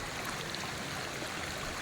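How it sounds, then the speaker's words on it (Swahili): Rainwater rushes down a newly formed river in Nairobi County after heavy rain, flowing over big stones as a steady, continuous, fairly faint broadband wash with no talking. "All these waters coming down there."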